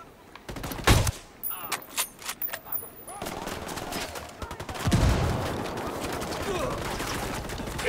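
Bursts of automatic gunfire in Ghost Recon Wildlands, loud sharp volleys in the first seconds followed by sustained rattling fire and chaotic combat noise, with voices talking over it.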